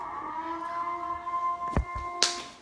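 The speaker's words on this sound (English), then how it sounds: "Guys, that's a siren!" A civil defense siren wails steadily at a distance, its sustained tone holding across the whole stretch with a few sharp knocks and thumps over it.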